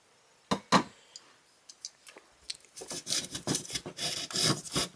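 A freshly sharpened knife blade rasps and saws through material in short scraping strokes, sparse at first, then faster and denser, close up with no talking.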